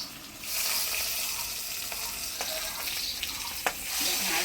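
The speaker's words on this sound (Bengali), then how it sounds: "ভাজার সময় অল্প লবণ দিচ্ছি তেলের মধ্যে ফাটতেছে" Pangas fish fries in hot oil in a village kitchen, a continuous soft crackling sizzle with a few sharper pops and spatters, fairly quiet and with no talking.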